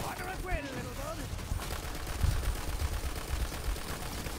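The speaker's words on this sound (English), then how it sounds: "I am shooting nothing but headshots" Rapid video-game gunfire in Borderlands, a dense run of shots under steady game noise and overlapping player chatter, with heavier impacts toward the middle.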